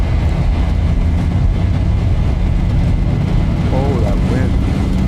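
Boeing 737 jet engines spool to takeoff thrust in X-Plane 12 with the Zibo mod, a loud, steady, broadband roar that fills the whole clip, with a voice briefly heard near the end.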